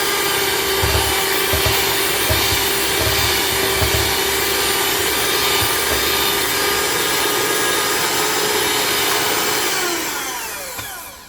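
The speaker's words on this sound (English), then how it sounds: "we continue mixing until it is nice and creamy" An electric mixer whirs steadily through oatmeal raisin cookie batter, loud and close, with faint thumps underneath, before winding down at the end.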